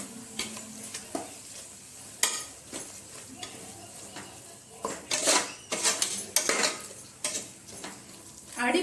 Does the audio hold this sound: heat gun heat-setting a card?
no